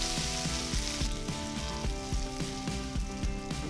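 Mustard seeds, chopped ginger, green chili and curry leaves sizzle in hot oil in a pan, a steady close crackle with rhythmic popping spatters and no talking.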